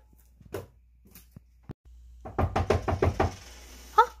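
Knocking on a door: a few scattered taps, then a burst of about eight quick, firm raps at close range, ending with a short sharper sound.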